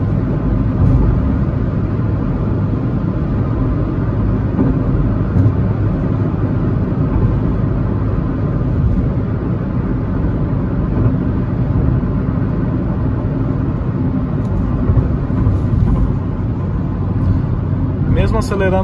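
Hyundai HB20 1.6 automatic car accelerating on a highway, its engine and tyre rumble a steady loud drone from inside the cabin, with someone talking over it throughout.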